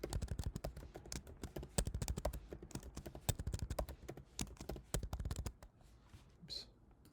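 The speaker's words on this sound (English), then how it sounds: "I'm just going to go ahead and type in all my masses here" Quick, irregular clatter of keys on a computer keyboard as masses are typed in, close and crisp, trailing off into quiet near the end.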